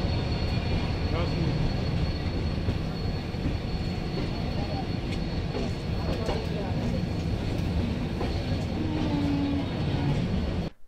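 The Dwarka–Mumbai Central Saurashtra Mail stands at Rajkot Junction, its steady broadband rumble and platform hubbub filling the scene continuously with scattered clanks and distant voices.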